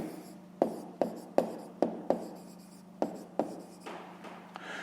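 Pen writing by hand on paper while working a maths exercise, a series of sharp taps and short scratchy strokes, close and quiet with no talk.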